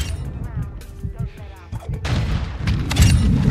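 Bryson 800 shotgun blasts in a video game, a burst of heavy booming shots crowding the second half, loud and close over a busy in-game din, with a voice talking earlier.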